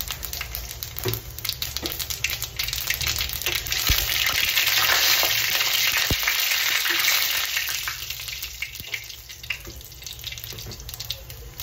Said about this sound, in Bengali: তারপর পাঁচফোড়নের ফোড়ন